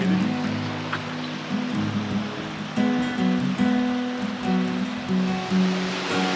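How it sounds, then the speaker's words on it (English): Waterfalls and white water along the Fiery Gizzard Trail make a steady, fairly loud rushing roar, with a tonal melodic layer running over it throughout. "you immediately see waterfalls and white water and everything, just sensory overload"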